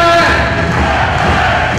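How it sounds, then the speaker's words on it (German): A loud volleyball crowd in a sports hall in Aachen roars a welcome at a Ladies in Black Aachen versus VC Wiesbaden match, a dense, continuous wash of cheering close and full throughout. "Eine lautstarke und warme Begrüßung vom tollen Aachener Publikum"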